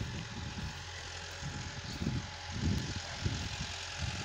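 A Massey Ferguson 375 tractor pulls a laser land leveler across a field, its engine giving a steady low drone with some rumbling pulses and a broad wash of noise, and no voices.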